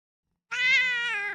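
An angry cat gives one drawn-out, harmonic meow lasting about a second, close and clear, with no other sound around it.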